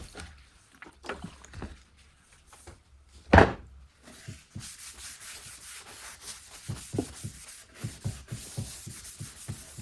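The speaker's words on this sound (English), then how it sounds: "I'm going to wipe it down with some mineral spirits before I get started" A rag rubbing mineral spirits over sanded wood on a table, repeated close scrubbing strokes in a loose rhythm with one loud knock partway through.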